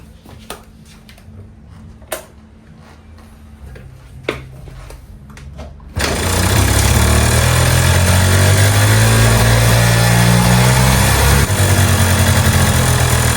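A Yamaha Mint 50cc two-stroke scooter engine kicks into life after a few quiet clicks, then runs loud and steady at a buzzing idle, close by.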